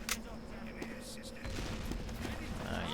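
Gunfire in a competitive first-person shooter match, a few sharp shots popping over a busy game mix while someone talks over it.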